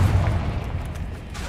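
Confringo spell blast in Hogwarts Legacy, a heavy low boom that rolls and fades over about a second and a half amid game background noise.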